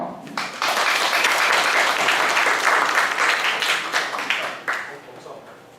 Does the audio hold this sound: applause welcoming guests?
yes